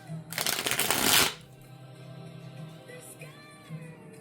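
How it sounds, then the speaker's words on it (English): A large tarot deck is shuffled by hand in a simple, loose mixing style, giving a brief, close rustling flurry of cards that stops after about a second, followed by quiet. "I'm going to do a little kindergarten shuffle"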